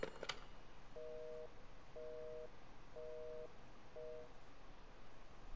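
Busy signal from a telephone picked up in Resident Evil Village: a short click, then four evenly spaced beeps roughly one second apart, steady and alone over faint background hiss.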